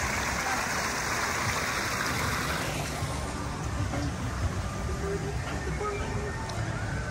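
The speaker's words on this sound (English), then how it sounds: "They have this really pretty walkway with this little creek." A small creek flows beside a landscaped walkway at EPCOT's World Showcase near the China pavilion. The water makes a steady, close, rushing wash that fills the whole stretch without pause.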